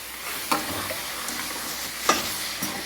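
Meat with bones sizzles steadily in a pan for kappa biryani, with a few scraping stirs of a spoon breaking through the close, continuous frying hiss.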